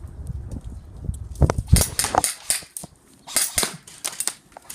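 Airsoft guns firing in a series of sharp, snappy cracks, some in quick bursts and others single, close by and fairly loud, with a low rumble of movement underneath in the first second.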